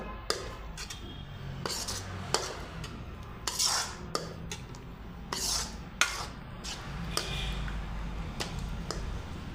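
Crushed kasuri methi is stirred into paneer lababadar in a pan, a spoon clinking and scraping against the metal in repeated sharp taps at an uneven rhythm, close and clear.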